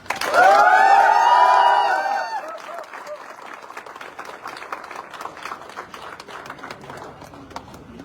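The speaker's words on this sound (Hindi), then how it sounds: "जोरदार तालियां अंकुर सर के लिए" Loud applause and cheering erupt at an awards event celebrating a new Audi A4 achiever, with a bright tonal burst early on, then continuing crowd clapping and shouts that gradually thin out.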